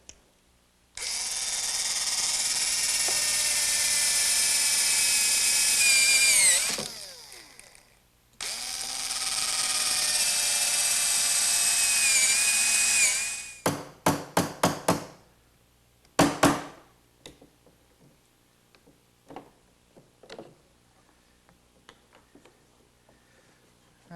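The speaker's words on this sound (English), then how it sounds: "So I'll do that by using a brad point bit and a chisel to remove" Power drill with a brad point bit boring recesses into a wooden workbench in a woodworking shop, two long loud whining runs, then a series of sharp taps and knocks as the bit is cleared, with no talking.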